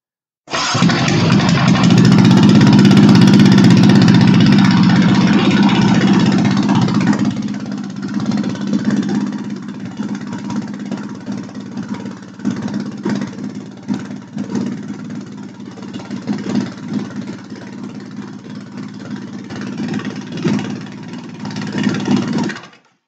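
A turbocharged car engine with a PCV setup idles steadily, loud and close for the first seven seconds, then settles into a quieter, uneven idle with small surges through the rest.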